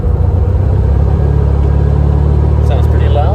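The engine of a 1971 Volkswagen Karmann Ghia that sat unused for over 20 years runs loudly, a steady close rumbling idle throughout.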